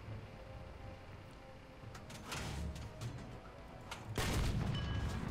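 In War Thunder, a tank fires its cannon during a battle, giving a sharp, loud blast near the end, preceded by scattered clanks and rumbling engine noise.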